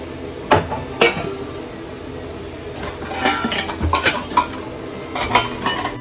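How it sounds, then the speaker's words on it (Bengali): Dishes, pots and metal containers clatter and clink as kitchen utensils, tins and a rice drum are put away, with scattered knocks and clanks, sparse at first then busier toward the end. "এই যে এখানে যা যা বাসন এখানে কৌটো চালের ড্রাম সব গুছিয়ে রেখে দিলাম"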